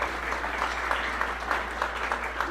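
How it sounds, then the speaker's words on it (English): A community event audience at a local history discussion in Pittsburg, Kansas applauds for a speaker, giving a steady, dense wash of clapping with no voices. "So let's give Devin a big round of applause."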